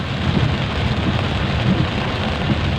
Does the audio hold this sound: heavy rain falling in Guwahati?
yes